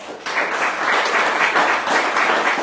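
Church congregation applauding during a Bible class, a sudden burst of many hands clapping that swells quickly and holds as a steady, full wash of sound.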